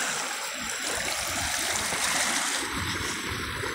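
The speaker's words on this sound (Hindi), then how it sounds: "ये पत्थर के पास से पानी किस तरह से बह रहा है, और बहुत ही बढ़िया" A hill-fed river flows past stones, giving a steady, full rushing and burbling of water at close range that continues without a break and has no talk over it.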